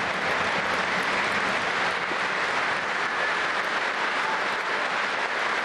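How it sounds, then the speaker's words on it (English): A large hall audience gives a loud standing ovation during a Russian presidential address on Crimea. A dense, unbroken roar of clapping from many hands holds at even loudness throughout. "His comments clearly receiving loud applause and now a standing ovation"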